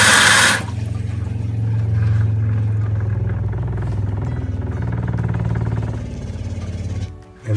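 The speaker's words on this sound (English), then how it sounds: "that's the sound of the pump filling everything back up" A steady low rumbling hum of a water pump running continuously while refilling plumbing pipes, with a faint churning of water, cutting off briefly before restarting at the end.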